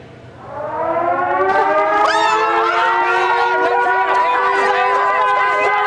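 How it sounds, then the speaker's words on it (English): A loud wailing civil-defense-style siren rises and then holds steady inside the Big Brother Australia house, a constant electronic howl with faint crowd noise beneath. "When the siren sounds, all the housemates must be in the bunker in full uniform and with microphones on within 45 seconds."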